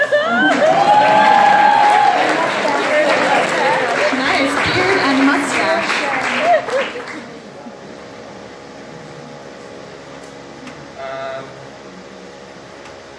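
Applause and cheering from a pun-off audience, a loud burst of clapping and whoops for about seven seconds with voices mixed in, then cutting off to quiet room tone and brief speech.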